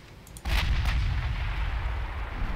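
A 16-inch naval gun salvo goes off in Ultimate Admiral Dreadnoughts. One heavy, loud boom lands after a short lead-in and rolls on into a long, rumbling tail that fills the rest of the clip.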